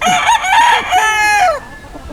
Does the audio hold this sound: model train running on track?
no